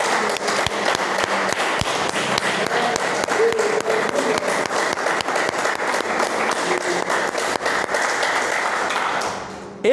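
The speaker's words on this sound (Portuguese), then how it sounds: "Pode aplaudir o Senhor." Church congregation applauding during a sermon, a long stretch of crisp, fairly close hand claps with some individual sharp claps standing out, fading near the end.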